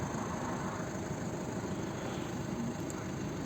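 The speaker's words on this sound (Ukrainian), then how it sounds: "Звук мотора." A 2011 Volkswagen Touran's 2.0 TDI diesel engine idles in a steady, low drone that goes on evenly without change, moderately quiet and close.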